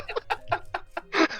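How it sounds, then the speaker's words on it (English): Chickens clucking in a short burst of choppy, close calls, with no talk over them. "It's just the chickens are funny."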